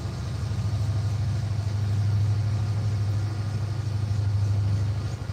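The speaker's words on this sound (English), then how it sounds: "And here comes another train. That's just a small one, though. Still loud enough. The engine's going to be pretty loud" A small passing train's engine heard from a lakeside fishing spot, a loud low droning rumble that swells slightly toward the middle and holds steady before easing at the end, with no voices.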